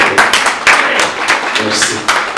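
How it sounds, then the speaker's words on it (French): An audience at a tribute evening applauds with a burst of dense, sharp hand claps that keep going steadily and fairly loudly, close by. "On va applaudir pour le président qui a passé."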